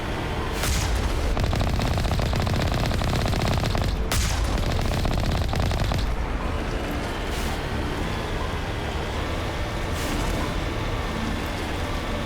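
Mako vehicle gunfire against giant turret-like armatures in the Mass Effect Legendary Edition video game, with dense sustained firing, several louder booming bursts and a constant loud battle din throughout.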